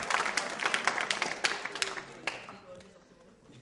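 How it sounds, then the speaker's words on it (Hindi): School audience at a quiz show clapping in a brief, uneven burst of hand claps that thins out and fades, with faint background murmur. "तालियां बजाइए अगर उन्होंने ऐसा किया है"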